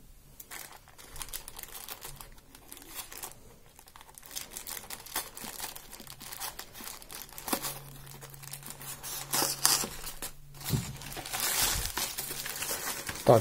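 A plastic parcel package is opened and unwrapped with close crinkling, tearing and rustling. The bursts come irregularly over several seconds and grow busier toward the end.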